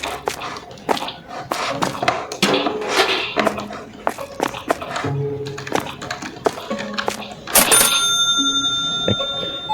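Cash register sounds in a supermarket video game: a busy run of clicks, taps and beeps with scanner-like tones, ending in a ringing register chime near the end, with faint talk underneath.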